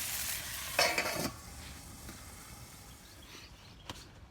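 Spicy pork cooks in a pot over an outdoor wood fire, a soft steady sizzle with a brief clatter of metal near the start, likely the lid going on, then a quiet simmer with an occasional tap.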